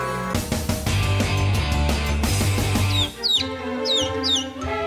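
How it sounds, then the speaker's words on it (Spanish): A chick peeping, rapid high, sweeping cheeps near at hand that follow a brief stretch of steady tones, with a busy, loud background. "oíd el pío pío de este precioso pollito"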